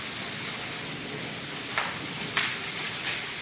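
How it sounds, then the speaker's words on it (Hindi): Rain falls steadily on a rooftop, a soft continuous hiss with a couple of faint louder spatters, fairly quiet and without talk. "आज बहुत प्यारी बारिश लगी हुई है इधर"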